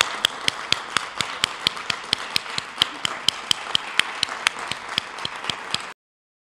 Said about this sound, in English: Can we give Reverend Wilson another huge round of applause?